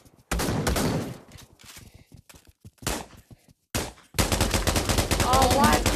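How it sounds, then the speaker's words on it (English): Gunshots in the VR video game Pavlov, with a few separate close shots at first, then a dense burst of rapid automatic fire near the end, mixed with brief voices. "Oh, why are people shooting?"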